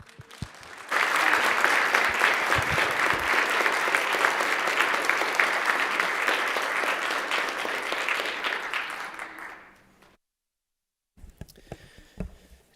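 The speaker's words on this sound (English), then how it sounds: "Please make me feel welcome by giving them a round of applause." A legislative assembly floor session breaks into applause for visiting board members: a full room claps loudly and steadily for about eight seconds before tapering off into silence, followed by a few faint scattered sounds.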